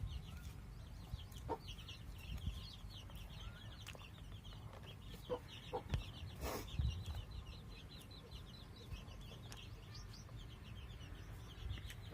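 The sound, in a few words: chicks clucking while being fed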